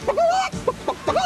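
A person imitates a chicken in a 1987 Klondike bar TV commercial, making several quick, close clucking calls with rising squawks.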